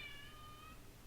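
A cat meows once, a drawn-out, fairly faint call over a quiet room hum.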